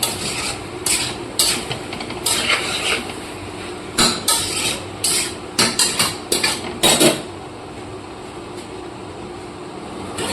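Pea and green banana curry being stirred and sautéed in a pan, with a spatula scraping and knocking against the metal in quick irregular bursts of clanks, close and fairly loud, then settling into a quieter sizzle.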